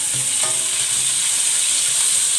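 Onions fry in oil in a pan, giving a steady, close hiss of sizzling that runs unbroken throughout.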